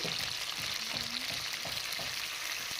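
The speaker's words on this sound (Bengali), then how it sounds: "দিয়ে হালকা একটু ভেজে নেব" Cauliflower fries lightly in a pan with salt and turmeric powder, a dense steady sizzle close by with soft stirring scrapes throughout, no voices.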